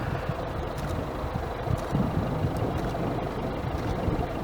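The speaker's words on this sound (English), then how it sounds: "There's a tractor working here." A tractor works a field at night in the Sperrins countryside during a thunderstorm, giving a steady, low engine rumble that sits at a distance beneath gusty wind.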